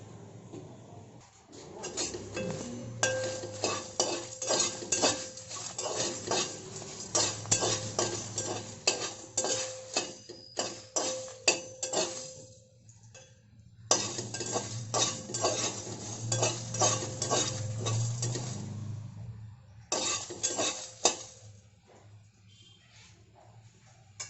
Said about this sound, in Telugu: హాఫ్ స్పూన్ జీలకర్ర, హాఫ్ స్పూన్ ధనియాలు, ఒక 8 ఎండుమిరపకాయలు, వీటన్నిటిని ఇప్పుడు వేయించుకోవాలి.